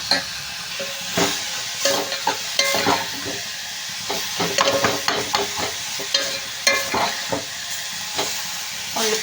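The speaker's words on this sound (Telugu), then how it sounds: "ఉల్లిపాయలు అయితే ఫ్రై అయిపోతున్నాయండి" Onions frying in oil in a pan as a mango chicken curry is cooked, a steady close sizzle broken by repeated scraping stirs, with no voices.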